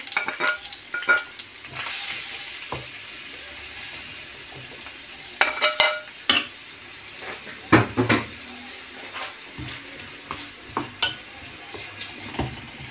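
Chopped onion frying in a pan, a steady close sizzle running throughout, broken by scattered clinks and scrapes of a utensil stirring against the pan.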